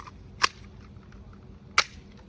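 A toy pistol fires two sharp, snapping shots roughly a second apart against a quiet background.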